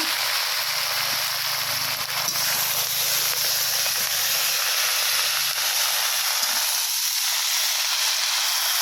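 Bete greens dropped into hot oil with garlic, nigella seeds and dry red chilli set off a loud, continuous sizzling hiss of steam that holds steady throughout, close up and with no voices.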